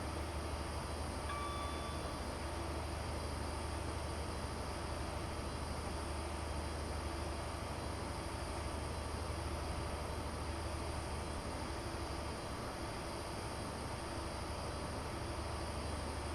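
A train accelerating on the Midland Main Line between Derby and Sheffield, heard as a steady, loud, continuous rumble and whine with a constant hum throughout, no voices over it.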